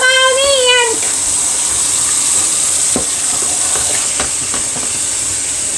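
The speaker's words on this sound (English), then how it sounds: "Can you hear that frying?" Liver and onions fry in a pan with a steady close sizzle and crackle, with scattered sharper pops. A brief whistle-like tone sounds at the very start, and the sizzle continues unbroken to the end.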